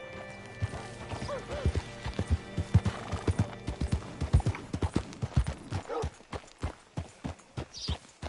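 Horse hooves clip-clopping at a walk in the video game Red Dead Redemption 2, a steady close rhythm of hoof strikes with a soft snort or whinny, faint voices in the background.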